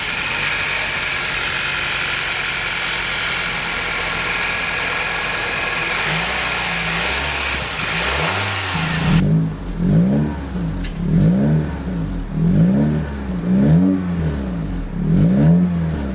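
A 2024 Acura Integra's 1.5-liter turbocharged inline four with VTEC idles in a steady hum, then from about nine seconds answers a series of rhythmic blips of the throttle, each rev swelling and falling back, close and loud.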